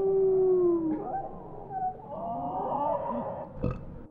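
A voice imitates a drawn-out howl, a loud falling tone that breaks into grunting, growly vocal noises and ends with a short burp-like burst, heard close and alone.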